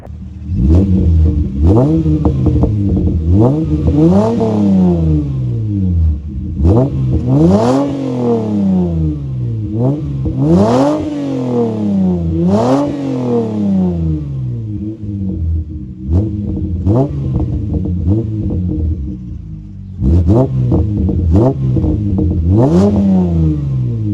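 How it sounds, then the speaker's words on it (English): A 2000 Toyota Solara with a muffler delete revs hard again and again, loud and close, each burst sweeping up in pitch and dropping back, with brief pauses between blips. "And I'll post up an exhaust clip real quick."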